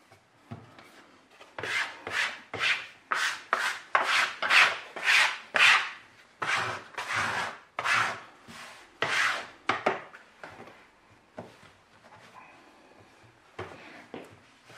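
Hands rub together to clean off sticky fresh egg pasta dough, making a fast, even series of close, dry scrubbing strokes for about ten seconds, then trailing off to softer rubs.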